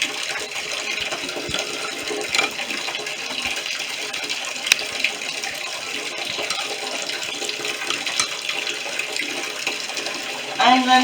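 Water runs steadily into a bathtub sprinkled with a handful of oats, a loud continuous splashing rush close by that lasts throughout, with a brief louder splash near the end.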